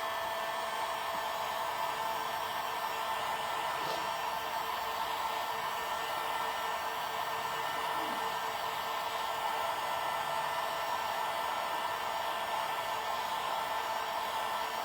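A hair dryer blows steadily over a painted craft duck, a constant close whooshing hiss that runs without a break from start to finish with no talking.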